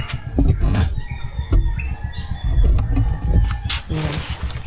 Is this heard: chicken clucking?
yes